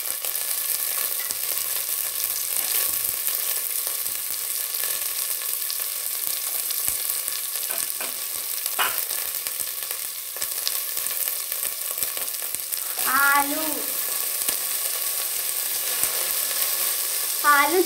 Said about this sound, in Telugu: ఆలు చిన్నగా తరుముకోవాలి. ఇప్పుడు ఫ్రై చేసుకోవాలి.